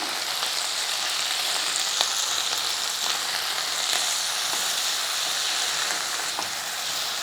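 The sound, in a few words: sautéing onion and tomato with salt in a pan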